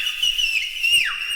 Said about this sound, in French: Et au signal de Tifouin, ils se sont mis à siffler super fort.